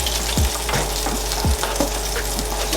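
An egg frying in a hot pan for a sausage egg muffin, with a steady loud sizzle and crackle close up and a few short scraping knocks of a utensil against the pan.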